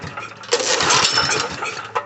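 A Honda GX270 engine on a Baldor Powerchief PC50H 5000 W generator, recently freed from seizure and primed through the carburetor, tries to start: a short, loud burst of sputtering and cranking noise with metallic clinks, close by.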